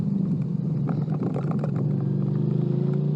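A Suzuki GSX-8 motorcycle engine revs high and steady up close, its droning tone holding and then climbing slightly in pitch toward the end, with no talk over it.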